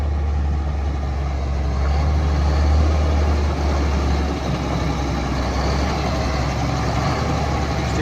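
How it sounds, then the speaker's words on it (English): A 1999 Mack RD688S truck engine runs at a steady low idle, a loud, deep diesel rumble that holds even throughout with no voices. "Truck runs strong, guys."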